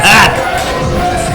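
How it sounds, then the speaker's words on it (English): Wrestling crowd at a PWF show roaring and cheering, a loud burst of massed voices right at the start that settles into a sustained excited hubbub. "this crowd is going nuts for Lowrider here"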